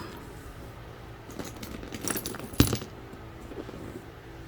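Metal hardware and zipper pulls on a luxury leather handbag clinking and jangling as the bag is shaken, a few soft rattles building to one sharp close clink, then quiet.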